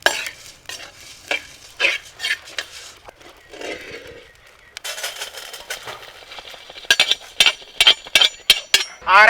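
Pepper, cumin and fennel roasting in a pan for a large village-style egg gravy, with repeated sharp scraping strokes of a ladle against metal over a steady dry sizzle, rhythmic and close.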